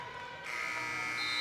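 At the end of a women's college basketball half, the arena buzzer blares a steady electric tone that swells loud after a brief lead-in.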